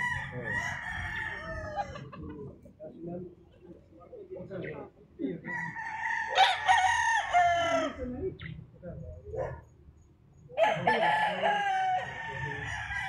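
A rooster crows several times close by, loud drawn-out calls separated by short pauses, with faint clucking and low voices in the background on a farm in Tagaytay City.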